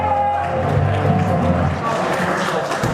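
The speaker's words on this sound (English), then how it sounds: "Listen to the crowd" Wrestling crowd at a UK show cheering as a wrestler makes his entrance, a loud, close roar of voices and clapping with a low rumble that swells toward the end.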